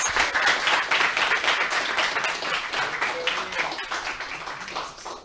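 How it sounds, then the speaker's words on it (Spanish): An audience at an educational conference applauds a speaker at the end of a talk, a full, continuous burst of clapping with faint voices mixed in. "Le damos un fuerte aplauso, chicos."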